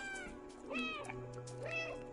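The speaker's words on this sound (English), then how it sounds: "You can just meow whenever you want!" Cat meowing in the video game Stray, two drawn-out meows a second apart, up close over a low steady hum of game ambience.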